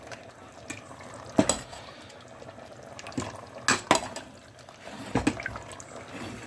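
Chicken keema is stirred in a pan, a spoon scraping and knocking against the metal in several irregular clatters over a soft background sizzle, with no talk.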